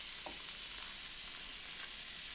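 Gnocchi browning in butter in a pan, a soft continuous sizzle with faint stirring scrapes, quiet and steady with no talk.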